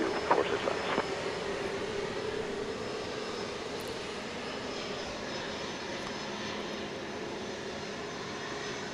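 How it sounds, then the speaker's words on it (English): A Boeing 737 Max 8 airliner glides in to land at Dallas Love Field at night, its engines producing a steady, moderately distant roar and whine that holds evenly throughout, with no talk. "Got a Max 8 now gliding in front of us"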